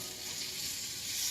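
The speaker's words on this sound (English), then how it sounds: "wait for the sizzle" Meat sizzling in a little oil in a hot flame-proof casserole, a steady close crackle and hiss running evenly throughout.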